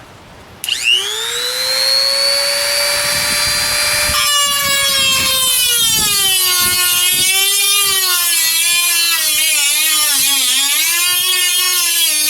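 An angle grinder cuts into a rusty car body panel, grinding it down to bare metal with a loud, sustained high-pitched whine whose pitch dips and wavers as the disc loads against the steel, close and continuous with no talk.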